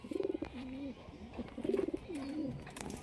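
A chotiyal pigeon coos close by in soft, rolling bursts, two repeated phrases of low throaty cooing with faint background noise.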